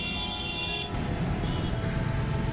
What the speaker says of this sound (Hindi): गाड़ियों की आवाज़ आ रही है बहुत तेज़।